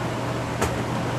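Steady, loud whirring fan running to pull marine-grade varnish vapors out of a spray area, a constant broadband drone with a brief bump midway and no speech.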